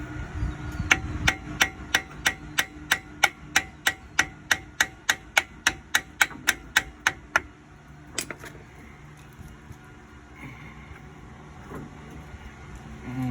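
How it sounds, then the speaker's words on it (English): About two dozen sharp metallic hammer blows on a 2000 Jeep Cherokee front axle U-joint ring out in a steady rhythm, close and loud, followed by a few scattered knocks and quieter workshop noise. "Let's get a little hammer action to help us."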